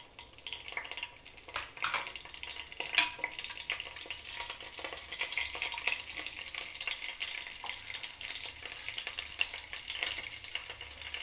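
Curry leaves crackle and sizzle in hot oil as a steady, hissing fry with scattered spits and pops, heard moderately close and fairly quiet throughout, with no talking.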